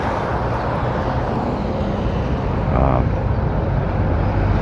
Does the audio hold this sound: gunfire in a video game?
no